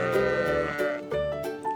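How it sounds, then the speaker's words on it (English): A sheep bleats in a series of loud, close, wavering calls, several overlapping baas following one another with no talk. "The sound of sheep."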